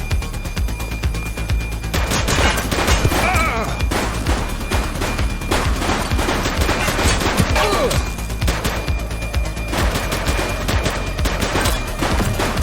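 Gunfire in the police video game The Precinct: dense, continuous bursts of rapid shots and impacts in a loud firefight, with a voice briefly heard over the shooting.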